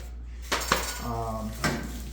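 Metal wire racks from a COSORI smart air fryer toaster oven clatter as they are handled, giving a few close, brief clinks and rattles over a low steady hum.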